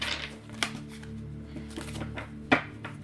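Tarot cards being shuffled by hand, with soft riffling and several sharp taps as the deck is squared, set against a low steady background hum.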